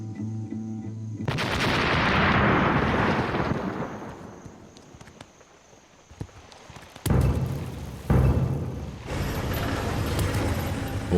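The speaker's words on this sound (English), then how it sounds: "Controlled explosion ready." Controlled explosion destroying a landmine in a Cambodian minefield, a sudden heavy blast that rolls and decays over several seconds, followed by further thuds and rumbling bursts amid music, loud and broad.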